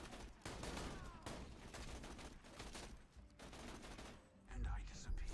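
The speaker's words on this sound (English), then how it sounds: "Really like that rocket launcher." Rapid weapon fire and explosions in the Borderlands shooter during an OP10 raid boss fight, with a rocket launcher among dense overlapping gunfire bursts, loud and continuous, ending in a heavy low boom.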